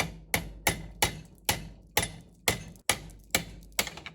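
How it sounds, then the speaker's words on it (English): A chisel is hammered against the metal carrier ring inside a Mercruiser outdrive lower unit, with about a dozen sharp, loud metallic strikes in a steady rhythm roughly twice a second, each ringing briefly. "I will continue chiseling that outer ring of the carrier out"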